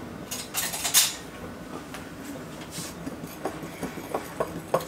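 Fork stirring salt, baking soda and baking powder in a bowl for lemon poppy seed muffins, light clinking and scraping taps scattered over a steady background hiss, a few sharper clicks near the start, no talking.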